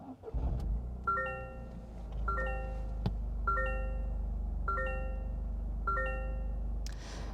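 A 2024 Toyota GR Corolla Core with a manual clutch starts with a brief crank and settles into a low, steady idle up close, while a repeating electronic dashboard chime sounds in five spaced bursts.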